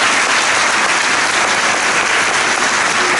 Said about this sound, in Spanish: Under obedience, we are clapping the hands and praising the Lord.